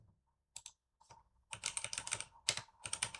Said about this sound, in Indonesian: Lalu selanjutnya saya mengetik clock set ini